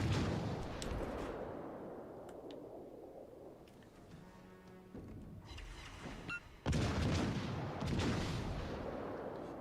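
Heavy naval guns boom across a World of Warships: Legends sea battle, deep rumbling blasts rolling through loud dense background noise, with a sharp surge of firing late on.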